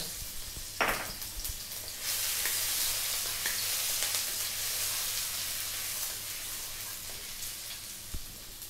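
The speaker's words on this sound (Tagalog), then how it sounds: "Unahin natin yung cooking oil. Add na natin yung ating" Ginger sizzles and fries in hot cooking oil for Filipino stir-fried vegetable noodles, a steady close hiss with a brief stir clatter and occasional pops.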